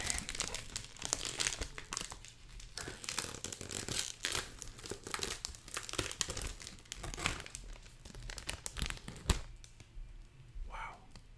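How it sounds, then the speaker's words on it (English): Cellophane wrapping crinkles and tears off a Lattafa Khamrah cologne box, close and quiet, with repeated crackling rustles over several seconds. "Just tear the cellophane."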